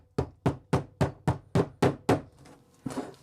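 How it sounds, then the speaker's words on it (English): A hammer drives a nail into a vintage steamer trunk, eight quick, sharp blows in a steady rhythm, close and loud, followed by a softer knock after a short pause. "Just hammer this down, make sure I've got the nail as tight as possible"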